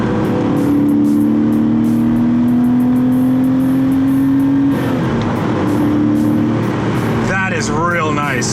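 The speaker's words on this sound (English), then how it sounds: "It revs pretty quickly." A rear-engined Porsche 911 revving close by, with a steady, rising engine tone that drops sharply partway through and then climbs again, followed by a brief higher whine near the end.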